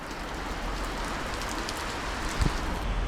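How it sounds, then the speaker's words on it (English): Steady rain falls on a Vienna street, a dense even patter close by and continuous, with no voices. "it's starting to rain again"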